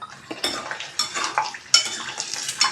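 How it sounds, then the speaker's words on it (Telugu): Half a dozen unpeeled garlic cloves fry in a pan, their quiet sizzle broken by several sharp scraping and stirring clatters of a utensil against the metal. "కొంచెం ఒక 2 మినిట్స్ ఇలా ఫ్రై చేసుకుని తీసేసుకుంటే సరిపోతుంది"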